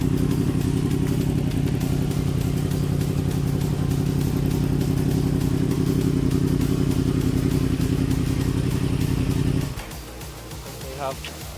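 Loud, steady exhaust rumble from a Yamaha R1 with an aftermarket sword-tip exhaust, idling and revving for about ten seconds, then dropping off abruptly to a quieter idle with faint clatter.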